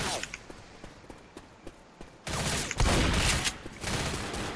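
Gunfire in the zombie shooter Left 4 Dead: scattered sharp shots at first, then a sustained burst of rapid automatic fire, loud and close, with brief pauses.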